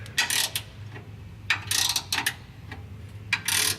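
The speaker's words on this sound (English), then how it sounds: "Hold the nut behind it and tighten the bolt up." A wrench ratchets as it tightens a bolt on an off-road rear bumper, producing rapid metallic clicking in three or four short runs against a low steady background hum.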